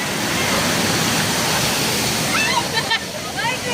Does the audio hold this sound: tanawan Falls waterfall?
yes